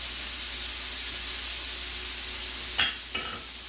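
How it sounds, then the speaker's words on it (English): Sour cherry habanero chicken wings sauté in a hot pan with a steady, soft sizzling hiss. A brief louder scrape or clatter comes near the end, and no one speaks. "we got that sauteing"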